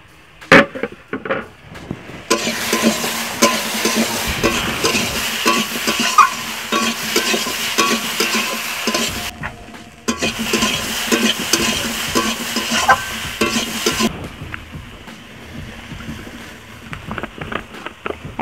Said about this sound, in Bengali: আমি খুন্তি দিয়ে একটু ভালো করে উচ্ছাগুলো ভাতের ভিতরে ঢুকিয়ে দিচ্ছি।